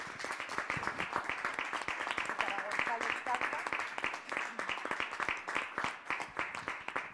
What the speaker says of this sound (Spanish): Y ahora es cuando les pido un aplauso para Olvido García Valdés.